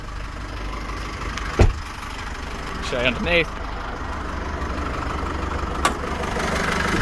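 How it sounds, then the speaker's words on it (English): A 2015 Holden Colorado 7 LT with a 2.8-litre turbo diesel idles in a steady low rumble throughout, with someone talking over it and a few brief knocks and clicks. "while the engine's running, I'll just open that bonnet up for you."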